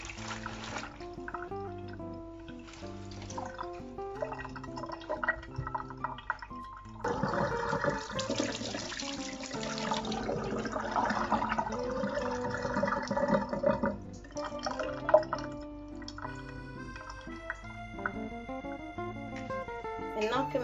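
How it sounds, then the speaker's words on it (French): Tap water running steadily into a sink to rinse salad that has soaked in water with baking soda, a continuous splash and gurgle that swells in the middle, with background music playing throughout. "je vais rincer ma salade puisque ça fait 15 minutes que c'est dans de l'eau avec du bicarbonate alimentaire"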